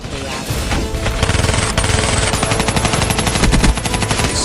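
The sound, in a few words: battle sound effects of cannon booms and rifle shots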